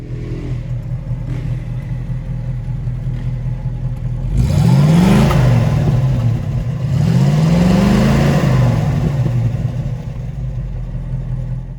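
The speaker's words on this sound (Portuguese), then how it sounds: "o famoso 283, primeiro motor, um small block, motor de entrada dos V8" A 283 small-block V8 in a classic Chevrolet Impala, 4.6 litres and 220 horsepower, idles with a low rumble and is then revved twice, each rev rising and falling loudly.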